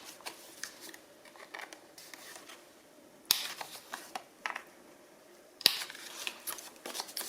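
Scissors trimming the edges of paper pieces for a school lap book, with soft snips and paper rustles at a near, quiet level and two sharper cuts standing out.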